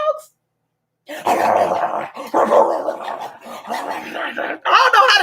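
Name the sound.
person imitating dogs barking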